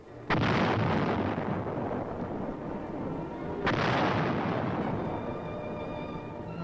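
Two heavy booms from 155 mm howitzers firing in the Korean War, each a loud blast followed by a long rolling decay, about three and a half seconds apart, with no talking.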